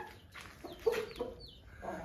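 A hen clucking close by in short, soft bursts, a few quick notes spaced across a couple of seconds over quiet background.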